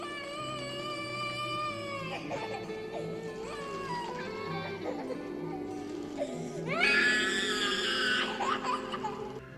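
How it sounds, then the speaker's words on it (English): A baby screaming and wailing in a slow-motion horror film scene, a sustained harmonic cry with rising and falling pitch, swelling louder toward the end over a low musical drone. "you hear a baby screaming"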